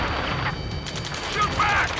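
Gunfire crackles through a combat mission in the flight game Ace Combat 7, a dense continuous barrage layered with radio voices and ongoing noise, steady and busy throughout.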